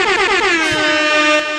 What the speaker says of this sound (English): air horn, man.